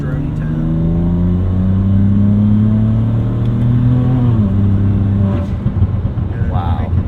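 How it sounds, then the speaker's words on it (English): Exhaust of a 2008 BMW 335xi drones loudly as the engine revs under boost, a buzzy tone that climbs in pitch and then drops, with voices talking over it. "The exhaust is a little buzzy"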